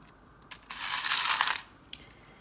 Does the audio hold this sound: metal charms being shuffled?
yes